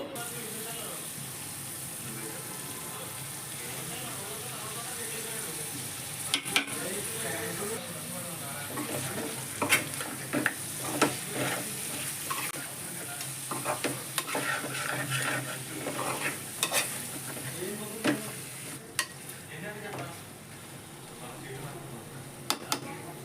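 Fried chicken pieces are tossed with mint and coriander in a pan, with scattered scraping and clinking of a spoon over a low sizzle and a voice talking at times.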